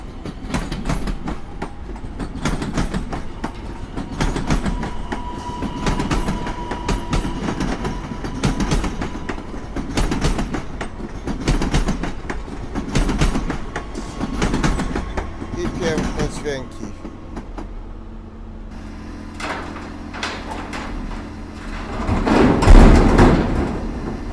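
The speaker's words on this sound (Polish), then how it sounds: "Impuls 2 na linii S1 do Pruszkowa" An Impuls 2 train on the S1 line to Pruszków runs through snowy Warszawa Zachodnia station under modernization, with rhythmic wheel clatter and knocking for about twenty seconds, voices murmuring, and a louder rumble near the end.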